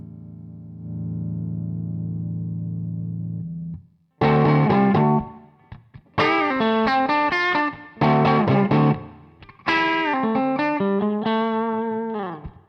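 Distorted electric guitar through an Echolette Mk1 amp channel plays a held chord, then several loud chopped riffs with pauses between, crunchy and close.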